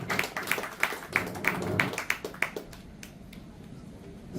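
Applause from a seminar audience at an AI adoption event, a brief burst of crisp, evenly spaced claps from a small group that quickly thins out and fades to room quiet.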